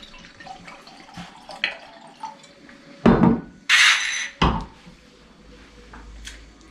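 White wine is poured into a glass in a home kitchen, a short splashing pour framed by soft clinks of glass and dishes, fairly close against a quiet room.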